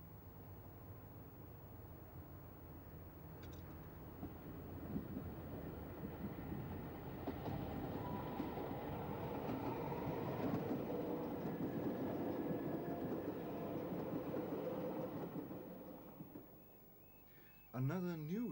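A Class 305 electric multiple unit train in PTE livery passes through a UK station with a sustained rumbling roar that swells in the middle and fades, followed by a brief tonal sound at the end.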